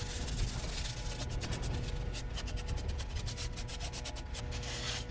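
A soft, steady rubbing of a cloth pad applying blonde shellac over a turned wood piece, with a continuous close swish and a faint rhythmic pulsing over the second half, no voices.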